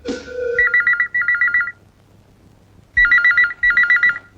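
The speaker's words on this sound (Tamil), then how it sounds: "மணி அடிக்குது" A telephone rings loud and near in four bursts of electronic trilling, two quick bursts, a short pause, then two more.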